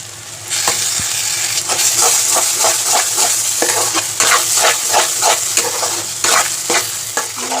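Close sizzling from a hot pan as spices are stirred for a vegetarian pointed gourd dish, with repeated scraping and clattering strokes of a spoon over continuous frying noise.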